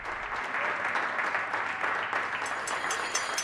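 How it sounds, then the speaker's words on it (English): A crowd clapping for carers and supermarket workers, dense sustained applause at moderate distance, steady throughout with a few brighter claps standing out. "Applause for the carers and also supermarket workers."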